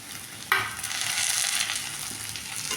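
Half a coconut's grated flesh and curry leaves dropped into a pan of frying onions for a village-style roasted masala curry: a sudden sizzle that rises and holds steady, close, with faint stirring and no talk.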